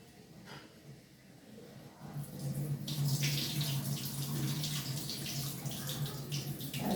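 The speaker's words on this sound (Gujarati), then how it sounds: "બે પાણીએ એને ધોઈ નાખીશું" Running water rinses chopped fresh turmeric and ginger in a home kitchen: a quiet start, then a steady, close splashing stream from about two seconds on, alone and without talk.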